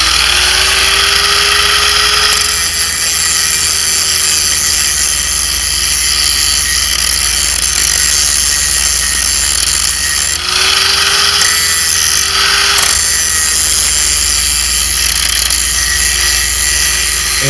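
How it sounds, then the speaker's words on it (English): Metal tips of a coon and fox wolfer drag are ground on a power tool, a loud continuous high whine with steady tone and two stretches of harsher grinding contact. "we're going to sharpen them now"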